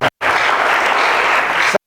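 A church congregation applauds after a preacher calls for cheers for God: a loud, even wash of clapping that starts abruptly after a short break and carries on to an abrupt stop.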